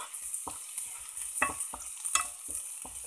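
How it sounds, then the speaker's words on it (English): Garlic sautéing in a pan, with a soft steady sizzle broken by several distinct stirring scrapes and clinks of a utensil against the pan, close and moderately loud, with no talking. "Now I'm sauteing the garlic."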